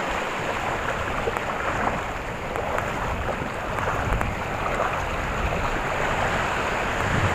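Rough sea waves churn and wash in a steady broadband roar beside a fishing spot after a typhoon, with wind buffeting the microphone throughout.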